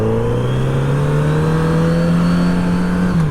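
A 2023 Kawasaki Z900RS motorcycle engine pulls hard on a well-kept Wisconsin road, its steady, loud drone climbing smoothly in pitch as it accelerates, heard up close with wind noise.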